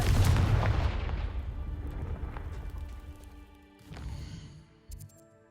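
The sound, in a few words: Confringo fire spell blasts in Hogwarts Legacy video game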